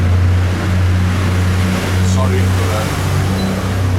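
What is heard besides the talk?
rubbish lorry driving up the road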